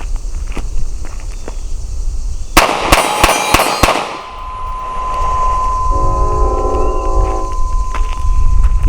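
A Glock pistol loaded from a Magpul PMAG magazine packed with grass fires a quick string of about five loud shots outdoors, followed by a ringing tone and quiet background noise.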